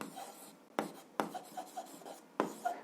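Pen writing an algebra solution on paper, a steady scratchy stroking broken by several sharper taps as strokes begin, close and quiet with no voices.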